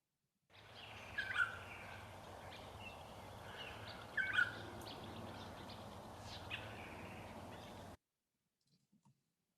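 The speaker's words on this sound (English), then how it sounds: "the bird song too is dying out. And let's just listen to this for a moment." Faint bird calls, a few short chirps, over a steady background hiss, ending abruptly in near silence.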